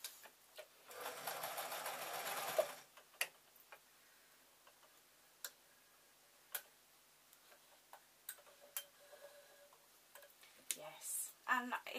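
A sewing machine that needs oil runs in one brief buzzing burst while sewing a tote bag, then falls into faint scattered ticks and clicks, with a soft final burst near the end.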